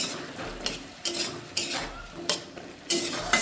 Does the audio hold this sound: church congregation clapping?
no